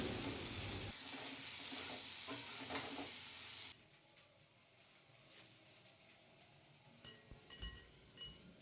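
Potatoes and green peas sizzle and fry in a pan while being stirred, a steady close frying hiss that drops lower partway through, followed by a few light clinks near the end.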